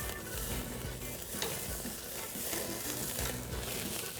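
Steak sizzling steadily in a hot cast iron pan right after being flipped, a dense continuous frying hiss with faint low scraping bumps underneath, close and fairly loud throughout.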